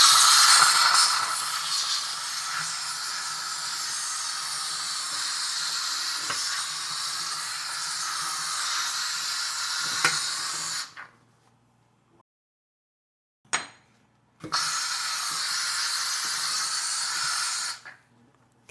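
A TVD steam cleaner sprays steam onto grime in a loud, steady hiss that runs about ten seconds, cuts off, gives a brief burst, then resumes for a few more seconds.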